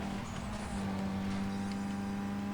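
A steady, subtle car engine hum from the video game Need for Speed Most Wanted drones on continuously, fairly quiet and even, with a faint tonal whine on top.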